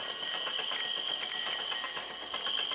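A bell in the horror game Granny rings continuously with a fast metallic trill, loud and close, sustained without pause like an alarm clock.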